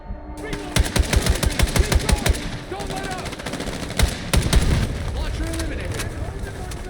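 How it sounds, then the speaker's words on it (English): Rapid bursts of automatic gunfire crackle over a dense battle din, punctuated by heavy booming explosions, loud and close, from the video game Battlefield 6. "the sound effects of the guns, explosions, and world around me"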